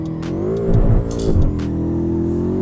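A BMW M5 F10 V8 in the Assetto Corsa racing game gives a loud, droning engine note that swells briefly with revving before holding a steady, rising tone.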